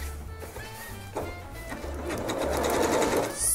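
A sewing machine stitching a torn tablecloth, a fast steady mechanical whirr of the needle running close up, with faint handling noises and no talk.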